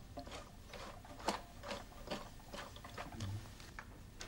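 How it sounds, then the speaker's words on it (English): A Flexorand Speedbinder carpet binding machine stitching carpet edging up to a corner, a soft, rapid mechanical ticking and patter that runs steadily at moderate level with faint clatter, no voices. "Work the machine up to about 1 centimetre before the corner, then stop."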